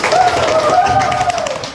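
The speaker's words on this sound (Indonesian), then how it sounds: "beri tepuk tangan" A classroom of students claps briefly in a short burst of applause, with a voice speaking over the clapping.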